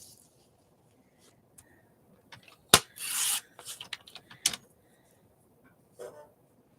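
Paper being trimmed at the top for a collage, with a few short, faint snips and rustling scrapes scattered over a quiet background, including one longer rasping cut.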